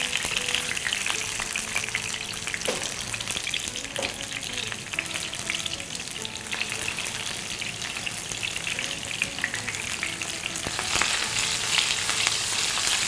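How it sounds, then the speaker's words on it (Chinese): Chicken legs shallow-frying in scallion-infused oil over medium-low heat, half-seared and half-fried in a pan, with a steady dense sizzle that persists throughout and swells slightly near the end, with no voices. "用那种半煎半炸的方式，这样呢可以让鸡肉两面都是酥脆的状态。"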